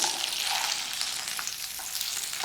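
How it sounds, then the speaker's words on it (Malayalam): Okra pieces frying in hot oil in a pan, a steady close bright sizzle that lasts the whole time with faint stirring and no talking. "ഓരോ വെണ്ടയ്ക്ക് ഇങ്ങനെ എണ്ണയിൽ വെച്ച് ഫ്രൈ ചെയ്തെടുക്കാം"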